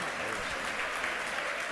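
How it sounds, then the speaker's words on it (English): Crowd at a SpaceX Starbase watch party erupting as the Super Heavy booster lands, a dense, loud wash of cheering and applause throughout. "I have a feeling the crowd's about to go wild here."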